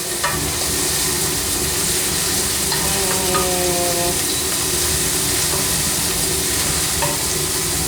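Tomato sauce ingredients sizzle steadily while sauteing in a pot, a continuous close frying hiss with faint stirring and clinks throughout, no talk.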